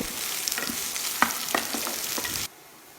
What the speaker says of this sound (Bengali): পেঁয়াজও তেলের মধ্যে কিছুক্ষণ ভেজে নিব পেঁয়াজ নরম হওয়া পর্যন্ত ভাজব